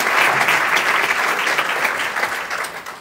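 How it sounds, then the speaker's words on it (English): A large audience at a Birmingham-Jefferson County transit address claps for event sponsors in a dense, steady burst of applause that fades slightly toward the end, with no talk over it. "Please give our sponsors a big round of applause"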